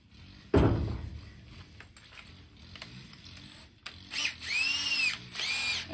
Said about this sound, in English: there's a spot weld right there that I'm going to try to just drill through with a drill bit